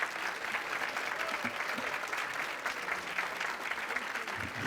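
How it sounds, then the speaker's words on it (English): Audience at a South Carolina Tea Party event applauds steadily and fairly loudly as a guest speaker is called to the stage, a dense wash of clapping holding even throughout. "Give him a big round of applause."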